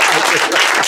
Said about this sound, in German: Mach nochmal Applaus dieses komische Wäsche.